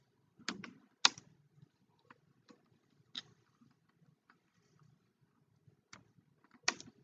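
Sparse keystrokes tap on a computer keyboard while someone types into a web page body, with irregular single clicks and short bursts, close and fairly quiet against a silent background.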